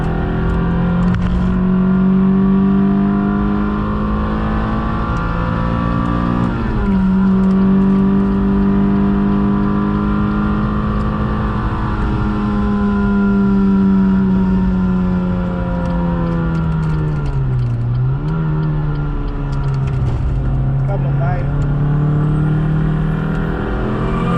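In-car engine note of a Renault Clio 197 Cup driven hard on track at Donington Park, loud and continuous, revving up through the gears with pitch drops at each shift and lift, no talking.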